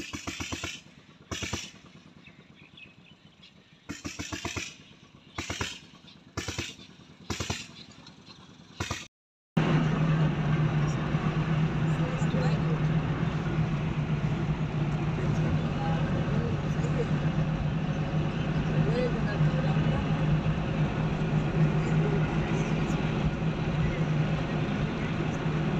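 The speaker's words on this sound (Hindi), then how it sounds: "ये देखें भाई लोग, गाड़ी आ चुकी है हमारी" A rental car arrives and sits with its engine running, a steady loud rumble that fills the second half after a brief gap, following bursts of chatter and voices in the first part.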